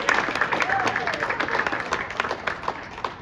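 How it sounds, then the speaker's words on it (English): Applause from a pub gathering for the dining services staff, a dense patter of many hands at moderate level with a faint voice or two mixed in, holding steady throughout. "let's have a round of applause for the dining services staff"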